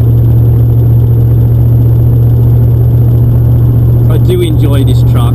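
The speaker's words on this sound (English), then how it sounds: "you gotta love the sound of a good V8" A V8 engine swapped into a Toyota Hilux truck idles with a steady, loud, even drone throughout. A voice briefly comes in near the end.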